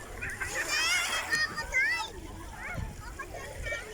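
Bathers splashing in the sea at Baseco Beach in Manila's Port Area, with irregular splashes and water sloshing close by under loud chatter and children's voices throughout.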